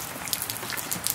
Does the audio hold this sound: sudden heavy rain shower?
yes